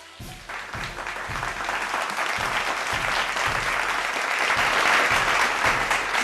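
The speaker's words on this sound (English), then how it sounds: "Wow, please give a huge round of applause," An audience at Hyderabad International School applauds a boys' karate act, dense steady clapping that swells gradually and stays loud throughout with no voices over it.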